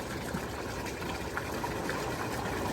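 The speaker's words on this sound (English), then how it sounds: "Then I'm going to just simply turn my jets on high." A brand new hot tub runs its jets on high: a steady, loud churning of pumped water with gushing and bubbling that never lets up.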